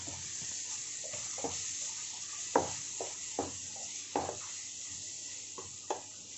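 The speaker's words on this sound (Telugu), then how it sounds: "ఇలా ఒక 10 నిమిషాల పాటు కదుపుకుంటూ మగ్గించుకుంటూ ఉండాలి" Chicken liver curry with raw mango cooks in a pan, a faint soft sizzle broken by several scraping knocks of a spoon stirring at irregular intervals, close and without speech.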